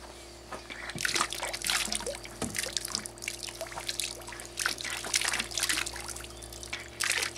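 A low-cost diaphragm pump run at 25 volts pushes water through a tube, producing an uneven splashing trickle and pour of water over a faint steady hum, heard up close without speech.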